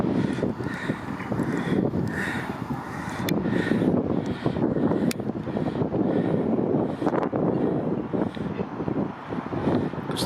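A westerly headwind buffets the microphone while someone rides a Pashley Sovereign bicycle eastward, making a constant rumbling wind roar with gusty swells. Occasional crow caws are heard in the distance.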